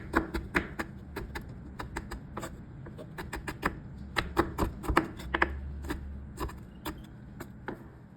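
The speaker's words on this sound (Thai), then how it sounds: "หลังจากที่เราหั่นพริกกับกระเทียมเรียบร้อยแล้วนะคะ" A knife chops chilies and garlic on a cutting board in a rapid, uneven series of sharp close taps, with no voices.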